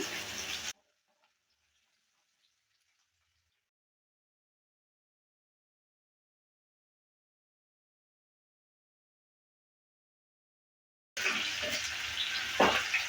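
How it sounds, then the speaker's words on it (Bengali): Potatoes stir-frying in a pan for a potato and pointed gourd curry: a brief burst of sizzling opens, then long silence, and loud sizzling with scraping stirs returns near the end. "আলুটা দেওয়ার পর ভালো করে আবারও নেড়ে ফেলে দিচ্ছি আর এক মিনিটের মতো আলুটাকে ভেজে নেব"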